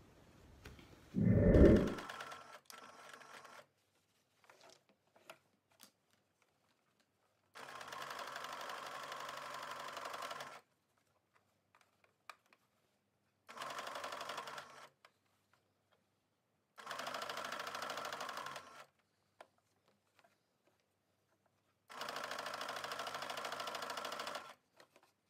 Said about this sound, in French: Et on va venir faire donc une surpiqûre ici tout autour de notre sac.